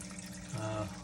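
Water flowing through a running Skimz Chaeto reactor in an aquarium setup, heard as a steady close gurgling trickle with a brief bubbling swell midway.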